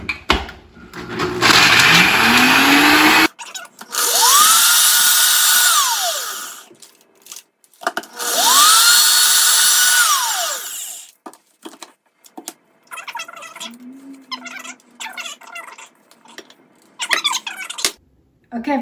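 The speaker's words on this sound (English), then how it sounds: "I have a NutriBullet, so that's how I'm gonna grind them up." A NutriBullet blender grinds graham crackers in two loud, sustained bursts of about three seconds each, with the motor rising and falling in pitch and a whirring start at the outset. Clattering and handling sounds from the jar fill the quieter stretches between bursts.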